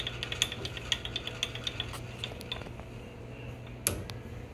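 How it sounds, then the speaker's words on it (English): A torque wrench set to about 50 foot-pounds clicks on a calibration machine, with a string of small sharp metallic ticks at a steady pace that thin out, then one louder snap, all faint and close with no talk. "instead of clicking in your hand, we'll hear the click on our machine"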